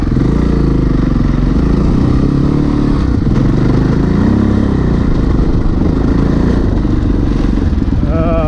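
A Yamaha XT660Z Tenere single-cylinder adventure motorcycle labours along a sand track, its engine a loud close continuous thump with rising revs, mixed with clatter and wind buffeting.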